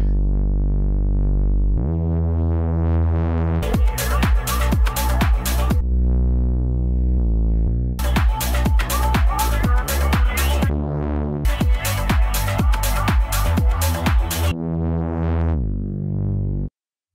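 Serum-made Reese bass recreating the bass line of an Anjunabeats track: a thick, buzzing, detuned synth bass plays alone in a looping riff, with three stretches of rapid rhythmic chopped notes between sustained tones.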